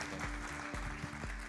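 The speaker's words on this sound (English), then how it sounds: "Round of applause, please, for Tudor from Scynet." Audience applause at an AI startup pitch battle at the Malta AIBC Summit: steady, dense clapping that fills the whole stretch, over a low, pulsing hum.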